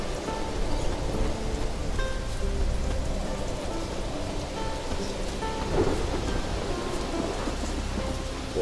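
Thunderstorm in The Witcher 3, a video game: heavy rain pours steadily and dense, with low thunder rumbling underneath and faint game tones, continuous and enveloping with no speech.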